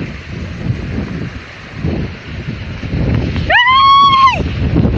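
Gusty wind buffets the microphone in rough, uneven rumbles, with a short high whistle-like tone rising and falling near the end.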